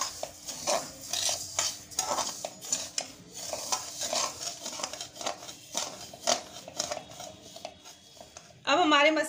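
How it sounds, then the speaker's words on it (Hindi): Spices roast on a low flame while a spoon stirs and scrapes against the pan in quick repeated strokes, close by, with a faint sizzle beneath and a louder rustle near the end. "आपको 5 मिनट के लिए मसालों को हल्का हल्का भूनना है"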